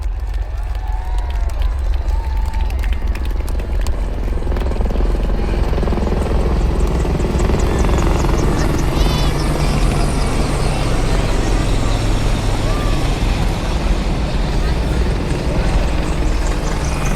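Dhruv and Rudra army helicopters fly over an army parade in Jaipur, making a loud, steady rotor-and-turbine roar that fills the whole stretch, with a diffuse crowd murmur underneath.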